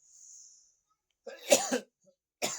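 A man coughs a few times in quick succession, close and fairly loud, after a brief faint breath; no speech.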